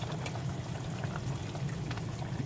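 Sinigang soup with okra and kangkong boils in a pot, a steady close bubbling and simmering with no one talking.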